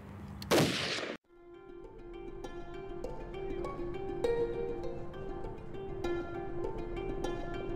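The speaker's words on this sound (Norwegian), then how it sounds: "Skytterne er klare. 4 skudd i eget tempo." A single sharp rifle shot cracks loudly at a military shooting range with Norwegian soldiers in Afghanistan. A quieter, steady droning backdrop follows for several seconds.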